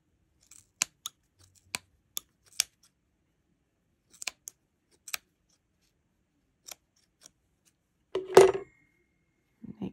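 Scissors snip repeatedly through crochet yarn loops on a small doll poncho, sharp close clicks scattered irregularly across a quiet room, with a louder rustle of handling near the end.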